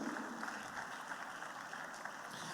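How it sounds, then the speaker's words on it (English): Steady, distant applause from an audience at an opening ceremony in Lagos, a continuous even wash of clapping at low level with no individual claps standing out. "can we give another echoing round of applause?"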